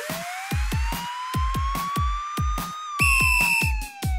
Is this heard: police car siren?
yes